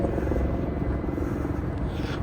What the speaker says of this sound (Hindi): वो हेलीकॉप्टर जा रहा है ऊपर।